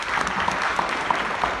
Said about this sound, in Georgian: გავხნეოთ ტაში ბატონი ლაშა.